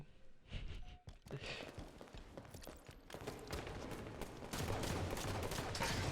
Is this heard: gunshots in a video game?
yes